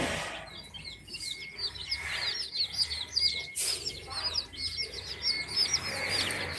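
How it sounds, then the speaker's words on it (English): Baby chicks peep continuously in a farm supply store, a steady chorus of high, rapid chirps from many birds close by, with faint store background. "I hear chirps."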